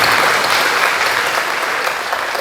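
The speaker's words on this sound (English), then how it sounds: "An applause, please." A crowd at an awards ceremony clapping steadily and loudly throughout, a dense wash of applause with no voices standing out.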